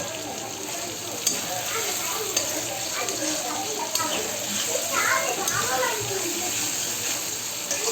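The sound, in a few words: noodles frying in a pan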